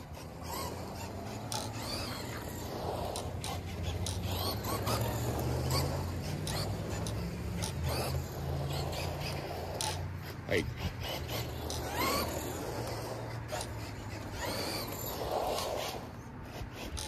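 A Traxxas Modified mud RC car runs laps on a small outdoor track. A continuous rasping, whirring motor and drivetrain noise lasts the whole stretch, rising and falling as the car circles, and no one speaks.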